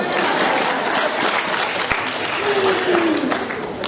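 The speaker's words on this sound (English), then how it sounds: "Clap hands for me" Church congregation applauding during a sermon, continuous crowd clapping with a few voices and a brief rising tone mixed in, steady from start to finish.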